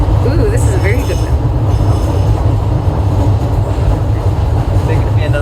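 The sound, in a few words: DLR driverless train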